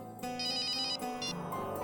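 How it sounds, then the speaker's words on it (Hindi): A mobile phone ringtone plays loudly, a bright repeating electronic melody in quick bursts, heard alone without voices. "लगता है किसी आशिक का फोन आया है।"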